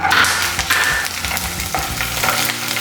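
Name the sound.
garlic frying with lentils in hot oil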